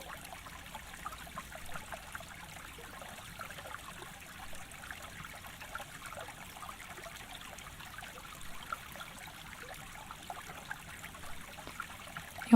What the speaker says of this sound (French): On entend le son du ruisseau à côté de nous qui coule tranquillement.